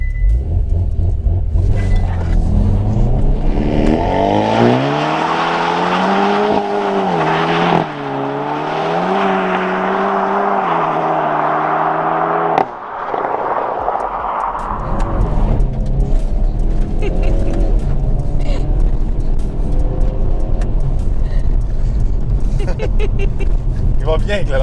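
Hard launch-control acceleration in a 2022 Hyundai Veloster N with dual-clutch transmission: the engine's loud, close drone climbs steeply in pitch through several quick gear changes, then drops away into steady road and cabin noise.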